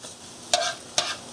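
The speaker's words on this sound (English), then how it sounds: "really quick scrambled eggs" Eggs scrambled in a pan for moo shu pork give a soft continuous sizzle broken by two quick scraping strokes of the utensil.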